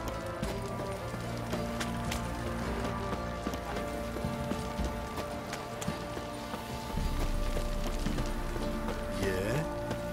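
Horse hooves clip-clop in a steady galloping rhythm amid a busy soundscape in The Witcher 3, with music and occasional voices, growing louder near the end.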